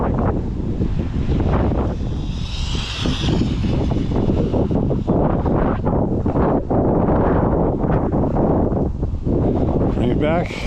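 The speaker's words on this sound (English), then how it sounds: "I got a crosswind here" Crosswind buffets the microphone steadily outdoors beside an RC speed run with a Tamiya MF-01X, a loud broadband roar with rustling gusts throughout, while a voice speaks over it.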